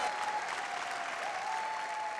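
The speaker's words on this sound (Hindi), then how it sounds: "जोरदार ताली" Steady, dense applause from a studio audience for a singer on a Bhojpuri television singing competition, a continuous wash of clapping with a faint sustained tone running underneath.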